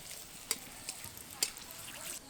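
Four dried red chillies and a bay leaf fry in mustard oil in a kadai, giving a faint, soft sizzle broken by a few sharp clicks and scrapes of a stirring spoon.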